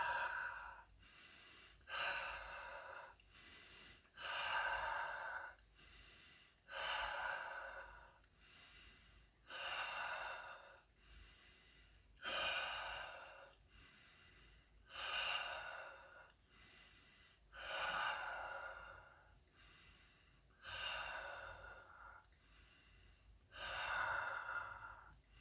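Deep diaphragm breathing during a vocal exercise routine: about ten slow, rhythmic breath cycles, each a loud, airy, hissing inhale and exhale with short pauses between, close and with no talk.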